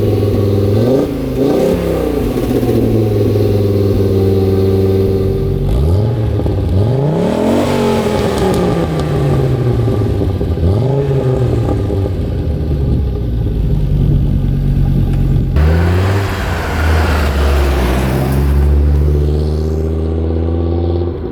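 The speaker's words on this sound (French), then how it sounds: "Je crois pas un jour pouvoir me lasser du son de ce 5 cylindres." Five-cylinder turbo engine of a barn-find Audi 200 Quattro Turbo, restored, running up close with repeated revs rising and falling over a steady idle, loud and continuous throughout.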